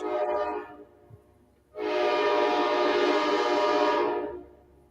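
A train horn blares twice, first a short blast that fades, then a long, loud, sustained blast lasting over two seconds before cutting off, with a low rumble of the train underneath and no talking.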